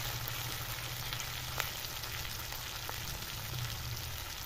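Young jackfruit fries with green chili as turmeric goes into the pan, a steady, even sizzle filling the sound with a couple of faint clicks from stirring.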